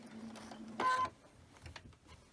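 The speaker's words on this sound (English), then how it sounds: "Just gently let your fabric feed through your machine." A home sewing machine stitching quilting cotton with a quarter-inch seam gives one short, close mechanical whir of about a quarter second, with quiet room noise around it.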